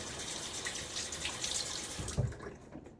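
A tap runs steadily with water splashing into a sink while shaving cream is lathered, a constant close wash of sound with a brief knock near the end.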